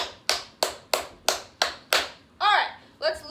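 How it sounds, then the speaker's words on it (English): Seven sharp hand claps in a steady rhythm ring out close by during a children's yoga session, followed by brief voices calling out. "Can we clap our hands and our feet?"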